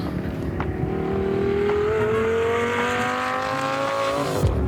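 Car engines drone steadily with a rising pitch at a race track, a vehicle passing close by and revving, ending with a sharp downward sweep as it pulls away.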